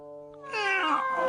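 A cat in a Hindi-dubbed Shinchan cartoon gives one drawn-out meow, close and clear, swelling after a soft lead-in tone.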